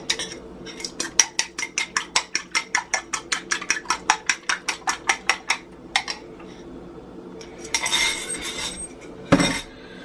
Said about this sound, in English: So, beat my egg.